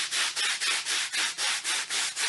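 A foam pool noodle is rubbed back and forth like classroom sandpaper blocks, giving about nine even, breathy scraping swishes in a steady rhythm, close and clear with no voices.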